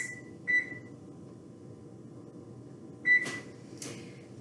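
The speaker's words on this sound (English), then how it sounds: "And I'm going to set the timer for 20 minutes." An oven timer being set for twenty minutes gives two short electronic beeps a few seconds apart, with a faint click of the buttons, over a low steady kitchen hum.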